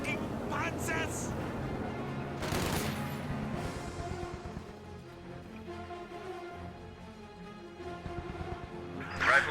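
Machine gun fire in a competitive real-time strategy video game match, rapid rattling bursts under busy battle noise while a commentator talks throughout.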